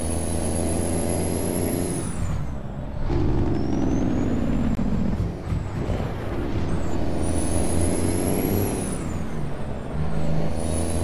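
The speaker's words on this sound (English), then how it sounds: "Sounds so sick hearing like other people's engine brakes." Trucks in a convoy in a truck-driving video game rumble with engine-brake and air-brake sounds, loud pulsing drones with high whistling hisses that rise and fall repeatedly, no talk.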